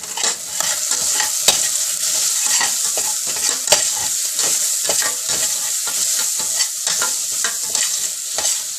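Red chili and turmeric powder sizzle in hot oil in a pan while a spoon stirs them, giving a close, busy crackle cut by frequent scrapes and taps against the pan, with no voices.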